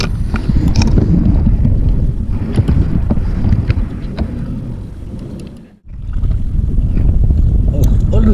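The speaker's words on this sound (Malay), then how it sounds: "Oh, kuat angin tu." Strong sea wind roars and buffets the microphone during kayak fishing off Malaysia, loud and continuous with a brief lull near the end before the gusts return.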